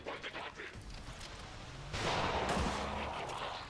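Explosion from a one-square blast in the turn-based strategy game XCOM 2 (Long War of the Chosen mod), a loud broadband burst with sustained rumble that rises sharply midway and stays heavy to the end, with no talk.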